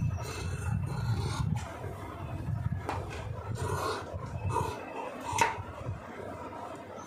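Scissors pressed down to cut through a thick stack of blouse fabric, giving a close, soft rasping and rubbing crunch with a few sharper snips.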